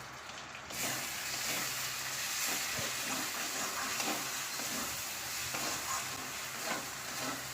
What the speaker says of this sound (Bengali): এই ঘিটা দিয়ে মশলা কষানোর সময় যদি দেওয়া যায় তো এই কাঁঠালের তরকারিটা খুব স্বাদ হয়